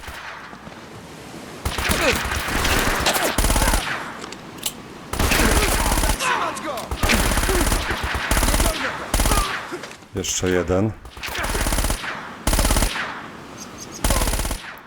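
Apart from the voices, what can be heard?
gunfire in a video game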